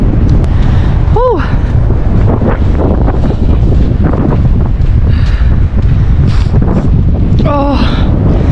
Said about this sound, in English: that wind is really, really nippy